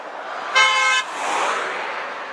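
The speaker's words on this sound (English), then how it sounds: "It's always got to be a jerk to honk" A single short car horn toot sounds on a road in Apple Valley, loud and brief over a quiet traffic background, then fades into passing vehicle noise.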